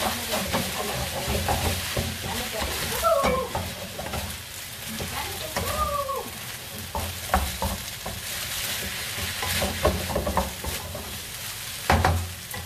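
Rice noodles soaked in water being stir-fried and tossed in a pan for pad thai, with a steady sizzle and scraping stirs throughout, a few clatters of the utensil against the pan standing out.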